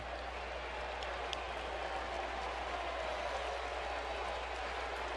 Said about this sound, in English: another big cheer for Big Papi, David Ortiz